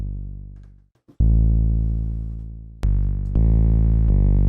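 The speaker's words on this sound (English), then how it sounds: "I'll put a little bit of distortion on there." A deep, distorted 808 bass made in the Serum synth sustains in long notes, cutting out briefly and returning with a gritty, buzzing edge that grows brighter on later notes.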